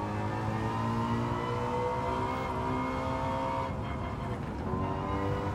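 Car engine fitted with a high-revving turbo in Gran Turismo 7, a continuous loud racing drone that climbs steadily in pitch through the gears, with a brief dip near the end as it shifts, and no talking.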